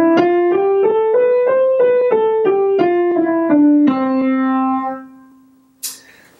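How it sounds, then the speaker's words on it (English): A slow scale played incorrectly on a keyboard, with the thumb-played notes landing noticeably heavier than the fingers around them, each note sounding clearly and close before a final tone sustains and fades, then a brief soft knock. "This is why sometimes scales, when played incorrectly, sound like this."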